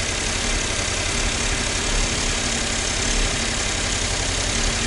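A Suzuki Jimny's three-cylinder engine runs steadily up close in a garage, a loud, dense, even rumble with a rough vibrating edge and no talking over it.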